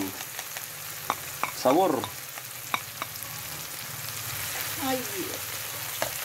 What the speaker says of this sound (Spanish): Ya tenemos el tomate casi frito, ¿ves?